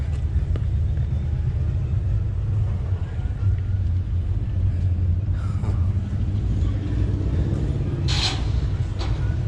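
A diesel-powered dually truck on airbags idles at an outdoor car show, a deep continuous low rumble close by with faint background voices and a brief higher burst near the end.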